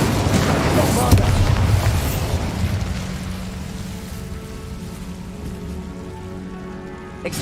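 A Bombarda explosion spell in the video game Hogwarts Legacy booms heavily at the start, then its rumbling debris and crackle fade slowly into a lingering hiss.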